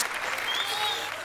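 A studio audience applauds during a Marathi comedy show scene, a brief, dense burst of clapping heard close, with a faint voice under it.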